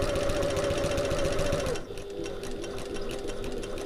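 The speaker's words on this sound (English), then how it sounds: "and then I'm going to sew back down to that line" A sewing machine runs steadily for just under two seconds stitching a backpack pocket, then shifts to a lower, slower hum as the stitching continues, loud and close with no talking.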